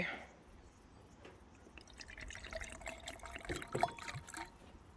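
Fermented creaming soda is poured from a bottle, a faint, quiet trickle and drip of liquid with a light fizz and a few small clinks, with no voices.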